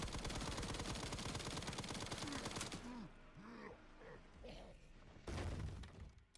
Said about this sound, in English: We're just gonna empty all the rounds of bullets into him though.